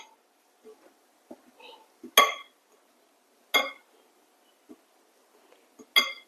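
Grated carrot is mixed into puttu flour in a bowl, with a few sharp clinks of a utensil against the bowl spaced a second or so apart amid quiet soft scraping, close and otherwise hushed.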